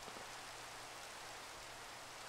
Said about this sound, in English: I really hope that it keeps raining